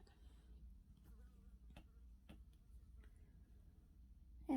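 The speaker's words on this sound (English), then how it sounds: "there is a fly buzzing around in here." Housefly buzzing around an indoor room, faint and intermittent with brief buzzes and a few light ticks against quiet background, no talk.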